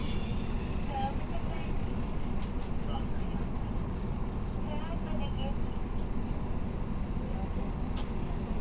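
Bus in motion with passengers aboard, a steady low engine and road rumble running throughout at moderate level, with faint clatter and background voices over the top.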